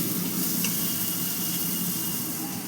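Cumin and coriander powder sizzling in a hot pan, a steady dense hiss with a faint bubbling texture, close and even throughout.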